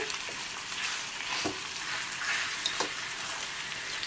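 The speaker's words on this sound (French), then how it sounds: "à feu doux, j'ai juste besoin de dorer les morceaux de viande" Pieces of lamb neck browning gently in olive oil over low heat, a steady soft sizzle with a few brief stirring knocks, close and fairly quiet.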